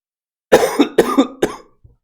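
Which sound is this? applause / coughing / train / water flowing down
coughing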